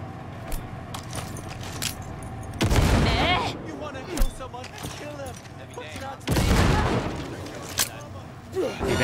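Grenades go off in Cyberpunk 2077 on Very Hard difficulty: two heavy, booming blasts several seconds apart, each with a rumbling tail, among scattered gunfire and clatter, with a voice talking in between.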